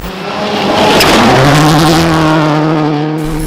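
A Subaru WRX STi rally car prepared by Vermont Sports Car revs up close and loud, its engine note climbing quickly and then holding a steady, buzzy high idle.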